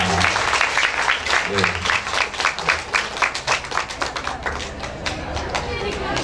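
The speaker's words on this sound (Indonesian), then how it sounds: "Tepuk tangan ke saudara" Audience applause for a student at a TPQ Quran-school graduation exam in Jember, a steady wash of dense hand clapping with scattered sharper claps, fairly close, mixed with some talking voices throughout.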